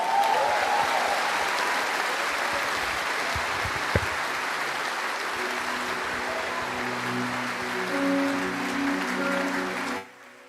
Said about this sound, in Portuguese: Você pode glorificar e aplaudir o nome do Senhor.